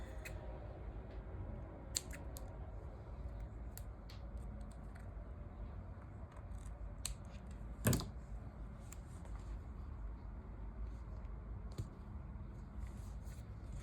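Scissors trim a blank paper header for a planner page, making faint, scattered snips and one louder cut midway over a low, steady room hum.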